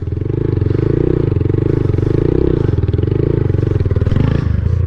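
Honda Grom motorcycle riding in tight circles, a loud, close, steady low engine drone with a fast pulsing throb, held at an even throttle throughout.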